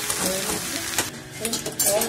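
Potatoes and onion stirred in a frying pan with salt and turmeric, a close spoon scraping and clinking against the pan over a soft sizzle, with brief pauses.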